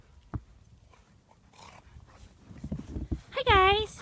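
Dogs playing in deep snow during a winter snowstorm, with panting, scuffling and a sharp bark or yelp near the end, while people talk and call out throughout.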